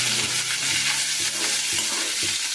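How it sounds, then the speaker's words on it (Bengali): Chopped onions fry in a pan over whole spices and bay leaf, sizzling loudly and close with repeated stirring scrapes throughout, no speech. "পেঁয়াজটা ভালো করে আমি লাল লাল করে একটু ভেজে নেব।"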